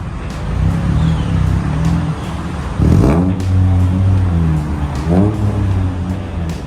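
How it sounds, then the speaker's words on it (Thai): A 2018 Honda City 1.5S with a stock engine and an aftermarket sport exhaust revs up in a couple of strong bursts, the exhaust note rising and falling loudly and close by with no talk. "แล้วก็จะมีท่อซิ่งเสียงเพราะมากๆนะครับ"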